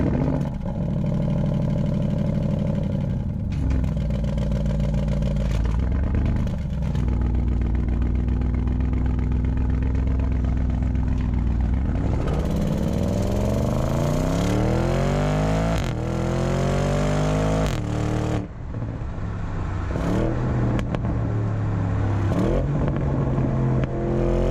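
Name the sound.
2021 Audi RS Q8 twin-turbo V8 SUV driving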